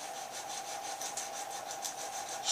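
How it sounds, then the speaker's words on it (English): An uilleann chanter reed is worked with medium sandpaper, giving faint, close, rhythmic scratchy rubbing strokes repeated steadily with no talk. "I've got medium sandpaper now"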